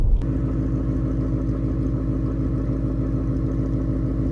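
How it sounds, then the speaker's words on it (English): Recorded from outside, a Ford Mustang fitted with an aftermarket exhaust idles at around 750 RPM, giving a close, loud, steady low burble with an even pulsing rhythm throughout. "So this is what idle sounds like."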